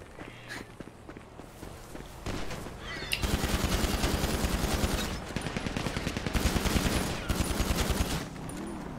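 Rapid gunfire in GTA 5 roleplay, a dense run of loud repeated shots with footsteps and scattered pops before it, continuing to the end without pause.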